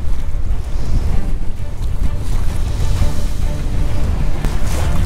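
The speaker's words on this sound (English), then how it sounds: "I don't think I've ever been out here and it'd be this windy." Strong wind roars steadily across open water off St. Augustine, with waves and spray washing over the bow of a small fishing boat and heavy gusts buffeting the microphone throughout.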